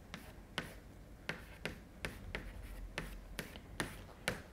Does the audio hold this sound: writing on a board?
yes